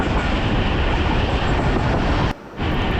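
Tezgaam Express passenger train travelling through Gujranwala city, heard from on board as a loud, steady rumble of wheels on rails with a brief dip in the noise before the roar resumes.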